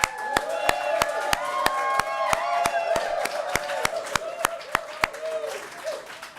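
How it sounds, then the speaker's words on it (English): At the Nasdaq closing bell ceremony in Times Square, New York, sharp claps ring out in a steady, evenly spaced rhythm, close and distinct, over a bed of crowd voices and tonal sound. "let's kick things off with a round of applause"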